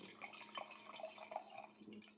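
Wine poured into a glass, a soft liquid trickle and drip running steadily for a couple of seconds at close range, fairly quiet, with no talk over it.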